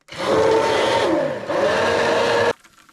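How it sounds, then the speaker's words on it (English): An immersion blender froths a beverage with a loud, steady whirring buzz lasting over two seconds. It dips briefly midway as the load changes, then stops abruptly and leaves near silence. "now I just hit it with my immersion blender"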